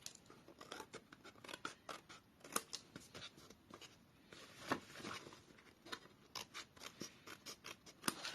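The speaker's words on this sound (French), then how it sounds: "On prend nos ciseaux. On coupe ce qui dépasse." Scissors snip through paper in a quick, steady run of small crisp cuts, close and fairly quiet, with no talking.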